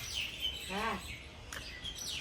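Birds chirping outdoors in the evening, several clear high calls and whistled tweets close by over a background of steady low noise, with a faint voice briefly in the mix.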